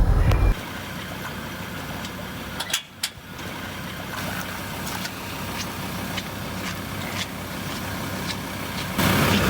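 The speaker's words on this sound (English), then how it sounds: "I've got to stop talking because I'm reversing the trailer down a ramp" A vehicle idles and creeps along while reversing a dinghy trailer down a boat ramp at the water's edge, a steady mid-pitched engine hum with a brief dip partway through, no talking.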